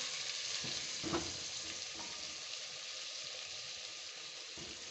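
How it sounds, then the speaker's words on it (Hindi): Dry coriander and half a teaspoon of turmeric fry in a pot for degi aloo gosht, giving a faint, steady sizzle with a few soft stirring scrapes and clinks. "और इसको अच्छी तरह से हम भूनेंगे अब दोबारा"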